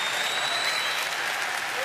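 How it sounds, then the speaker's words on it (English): Sustained audience applause at a televised sports awards show, dense and steady clapping from a large crowd filling the whole moment with no pause. "Hold for bigger applause."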